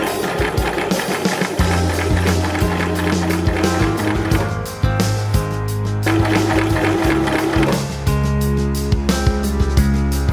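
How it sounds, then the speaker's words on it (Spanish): Janome 523H sewing machine stitching, loud steady mechanical whirring with a brief pause partway through and another slight dip later, close up with no voices. "Baja el prensatelas y retoma tu costura."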